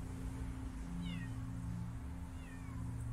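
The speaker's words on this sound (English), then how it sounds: "This cat is very active." A cat in the video game Copy Cat gives two short, clear meows about a second apart, set against a low, steady musical hum in the background.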